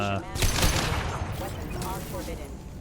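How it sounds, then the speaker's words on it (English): Mechs opening fire in the video game Mass Effect 2, with a dense burst of gunfire that starts loud and keeps rattling along. The shooting stays close and busy, with talk mixed into the battle noise. "His mechs shoot without question."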